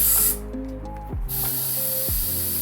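Compressed air hisses loudly into a mini bike rear tire in strong bursts, pausing briefly before a second longer blast, with faint mechanical clicks and squeaks between them and no speech.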